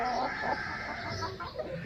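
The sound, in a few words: Thai Aseel hen clucking near eggs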